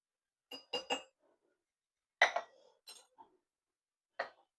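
A spoon scooping coffee grounds out of a coffee container: a few short, quiet clinks and scrapes, a quick cluster near the start and isolated taps later, separated by silence.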